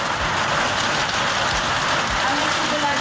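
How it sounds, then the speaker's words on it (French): Hail pelts a veranda roof in a steady, dense clatter of small impacts, loud and continuous with no voices over it. "Ah mais c'est de la grêle."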